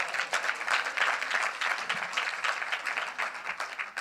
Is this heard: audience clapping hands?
yes